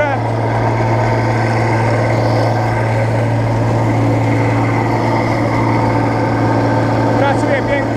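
A Bizon 4040 combine harvester engine runs steadily during harvest, a loud continuous low drone with a strong hum and rattling overtones, close and unbroken throughout.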